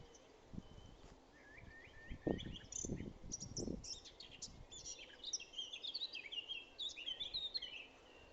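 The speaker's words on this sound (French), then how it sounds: "Il me semble que c'est une adorable mésange qui chante." A tit sings high, quick chirping phrases from a distance, with a few low soft thuds nearby in an otherwise quiet morning garden.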